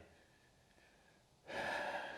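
A single deliberate breath during a yoga practice for the back and pelvis, a steady airy rush that swells suddenly after a quiet stretch and holds loud and close to the end, no talking.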